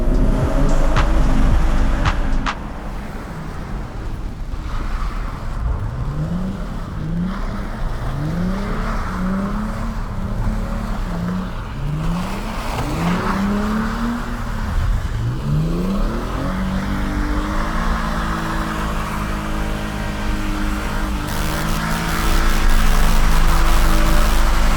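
A drift car spins donuts, its engine revving in repeated rising and falling sweeps with bursts of tire noise, loud and close, with no talking.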